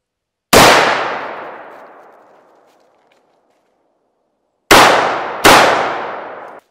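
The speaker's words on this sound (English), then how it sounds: "shoot that target once, and then I'm gonna run over here and shoot that jug twice" Gunfire rings out on an improvised shooting range, aimed at a target and a jug. One loud shot echoes away, then two quick shots close together follow after a pause.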